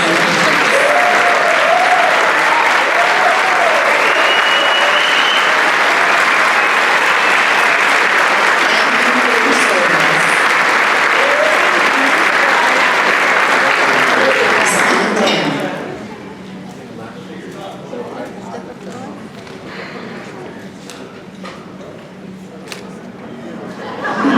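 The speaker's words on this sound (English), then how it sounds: "please stand so we can give you a round of applause" A crowd at a senior scholarship night gives veterans a round of applause, dense sustained clapping for about fifteen seconds before it drops away to quiet murmuring chatter.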